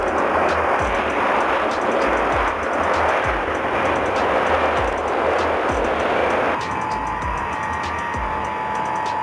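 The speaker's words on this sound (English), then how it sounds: "Ilyushin IL-76, a Russian military and civilian transport aircraft designed by Ilyushin." Ilyushin IL-76 Russian military transport aircraft, its engines giving a loud, steady broadband roar that runs throughout, with a shift in tone near the end.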